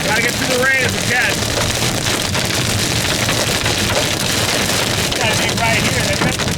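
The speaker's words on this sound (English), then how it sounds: "Gotta get through the rain as we can." Heavy rain drums on a car during a tornado chase, a loud continuous roar mixed with wind buffeting, while people inside talk over it.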